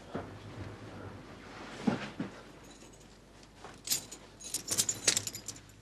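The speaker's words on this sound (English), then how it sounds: "Get the keys off him." Keys jangling as they are taken off a man during a robbery, a faint metallic rattle at first that becomes several sharper close jingles toward the end, with no talking.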